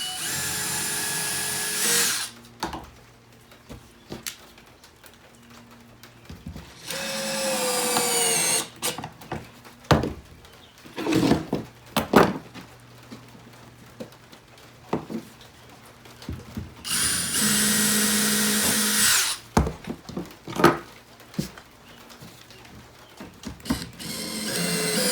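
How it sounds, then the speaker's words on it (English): A power drill drives screws into a plywood outfeed table in several whirring bursts of a few seconds each, separated by quieter gaps with clicks and handling knocks. "I'm going to screw into it to hold this down"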